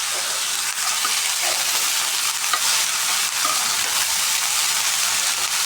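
Chopped onions and chilies frying in a hot pan, a steady loud sizzle filling the whole stretch close by, with faint stirring scrapes underneath and no voices.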